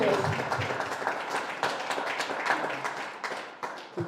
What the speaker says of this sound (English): so give her that good applause.